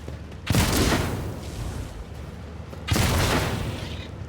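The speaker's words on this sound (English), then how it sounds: "Explosion did hit a little bit." Two heavy booming blasts from a Warhammer 40,000: Rogue Trader battle, each a sudden loud burst that rumbles and fades over about a second, spaced roughly two and a half seconds apart with no talk.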